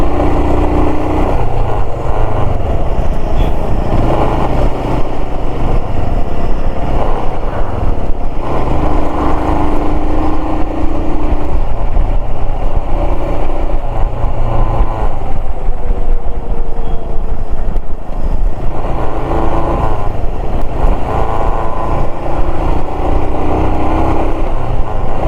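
Royal Enfield motorcycle climbing a ghat road uphill in first gear on an India to Nepal ride, a loud steady engine drone with wind buffeting, rising and falling slightly as the throttle changes, and no talking.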